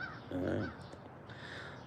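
A single crow caws once, close and clear, outdoors in woodland where someone is carving a wooden spoon. Quiet ambience follows the call.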